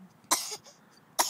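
An eight-month-old baby gives two short, sharp coughs, close and fairly quiet, separated by a brief pause.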